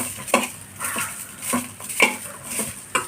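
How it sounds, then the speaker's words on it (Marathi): A metal spoon scrapes and clanks against a pan as thecha of chillies with plenty of coriander is stirred in a little oil, giving irregular close clinks and scrapes with a faint sizzle underneath. "कोथिंबीरही चांगली परतून घ्यायची, त्यामध्ये छान"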